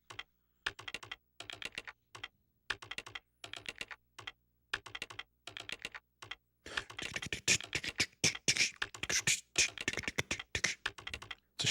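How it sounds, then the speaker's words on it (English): Looping keyboard typing from the video game Parasite Eve: rapid bursts of key clicks in short, regular clusters, turning denser and more continuous in the second half, with no voices. "It's a short loop for the typing."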